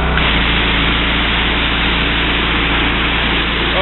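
Two pressure washers joined together, running at 3500 RPM and spraying 4.5 gallons a minute through a green 25-degree tip, make a loud, steady hiss of rushing water over an engine drone, continuous and close.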